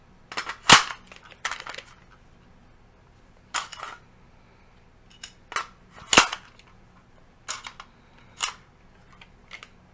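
Magazine release on an AR-15 pistol in 300 Blackout gives sharp, close metallic clacks and snaps, about seven or eight separate hits spread irregularly over the stretch, with no talk.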